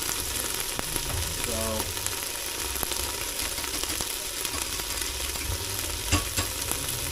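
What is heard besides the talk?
beef stew cooking on high in a smart lid pan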